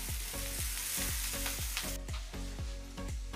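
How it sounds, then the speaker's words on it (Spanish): Onion sautés in a pan over low heat, sizzling with a soft constant hiss while a spoon stirs it in regular, evenly spaced scrapes about every third of a second, close and alone. "Y ahora a fuego bajo le vamos a tener removiéndolo de vez en cuando 10 minutitos hasta que nuestra cebolla se haya pochado bien."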